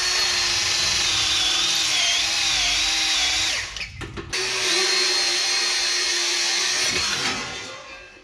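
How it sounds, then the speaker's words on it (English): A power drill cutting out spot welds on a brace of an FJ45 Land Cruiser, a loud close whining drone with steady pitch, a brief stop and restart midway, then trailing off as the bit breaks through. "I'll drill those out so that I can remove this brace"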